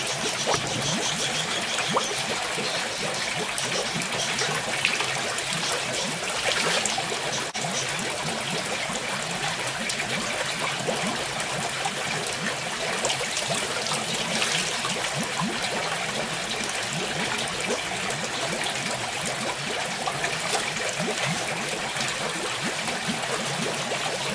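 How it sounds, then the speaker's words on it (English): Hydrogen peroxide pours slowly into a koi pond, a steady watery trickle and splash running continuously at close range with no voices. "now time to add the hydrogen peroxide in order to neutralise the PP"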